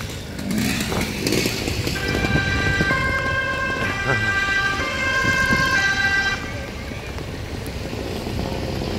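A fire engine's wailing siren sounds loud and close in Sveg as it heads out to put out a fire, with tones rising and falling over traffic rumble before cutting off.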